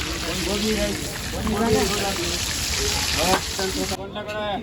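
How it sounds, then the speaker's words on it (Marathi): Mud crab frying in hot oil, a steady loud sizzle and crackle running throughout with a person talking over it. "चिंबोरी तेलात टाकलेली आहे"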